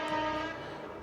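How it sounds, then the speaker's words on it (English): A train on a railway line in Cornish countryside near a level crossing, heard as a brief faint tonal horn-like drone with low rumble, distant and alone. "We can hear the train."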